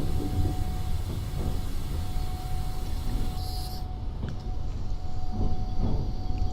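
Locomotive braking in the Trans-Siberian Railways Simulator game during a blizzard: a steady, loud rushing roar of train and air noise with a constant tone, a hiss that cuts off midway, and low rumbling throughout.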